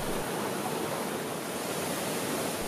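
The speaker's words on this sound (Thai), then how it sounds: "เป็นน้ำตกขนาดใหญ่นับชั้นหินที่น้ำตกตกลงมาลดหลั่นกันถึงชั้นล่างสุด" Pa La-u waterfall, a large fifteen-tiered cascade in Kaeng Krachan National Park near Hua Hin, Prachuap Khiri Khan, roars as a steady, dense, unbroken wash of water, with no voices.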